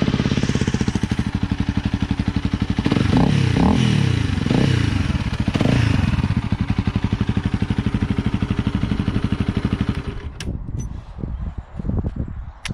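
Honda CRF 300 Rally motorcycle with a modified airbox, its engine idling and revving nearby in a loud, rapid pulsing drone with a few throttle blips before dropping off near the end; no talking.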